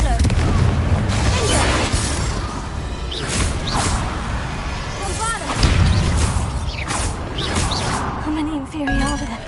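A Confringo fire spell cast in Hogwarts Legacy, booming explosions and whooshing blasts over a busy battle mix with clinks and rumbles, loud and repeated across the stretch, with game dialogue mixed in.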